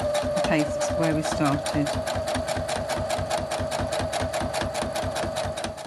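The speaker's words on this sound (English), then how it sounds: "And now we're sewing up to" A sewing machine stitching fabric runs steadily and close, its needle hammering in a fast even rhythm with a constant motor whine, while a person speaks briefly over it at the start.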